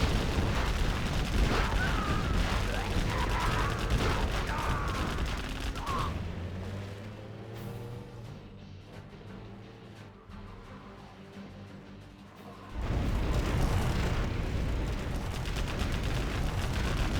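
Explosions and gunfire from a suicide Technical attack in C&C Generals Zero Hour: dense bursts of blasts and shooting, loud at first, easing into a quieter rumble, then swelling again.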